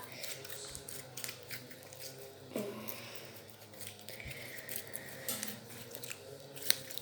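Clear, crunchy slime squeezed and clicked in the hands, giving a run of close, crisp crackles and small pops with a few sharper snaps, heard alone without talk.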